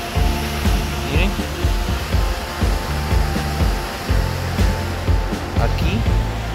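A mountain waterfall tumbling over a pile of rocks near Central City, Colorado, pours out a constant loud rushing roar, with someone talking over it.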